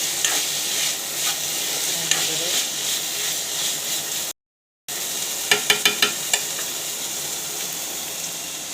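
Bitter gourd and potato fry in a pan with a dense, continuous sizzle broken by light scraping strokes of stirring, a short silent gap, then a few sharp clicks from the utensil.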